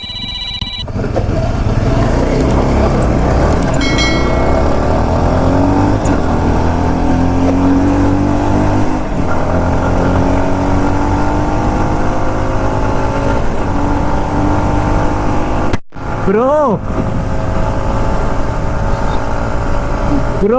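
Jawa 42 Bobber motorcycles race along a road, their engines loud and steady throughout with rising pitch as they accelerate, and a brief dip near the end.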